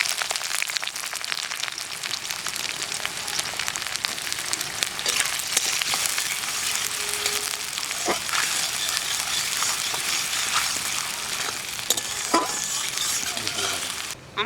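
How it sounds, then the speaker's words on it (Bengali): Sliced onions sizzle in hot oil with cardamom, dried red chilli and black pepper for an egg dish, a steady crackling fry with occasional stirring scrapes throughout. "এলাচ, শুকনো লঙ্কা, গোলমরিচ, এইগুলো তেলের মধ্যে দিয়ে দেবো। এইবার পেঁয়াজ দিয়ে দেবো।"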